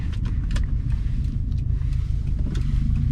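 A 2011 Subaru WRX Premium cruising twisty roads at night, its steady low engine rumble and road noise droning close and continuous throughout, with no talk.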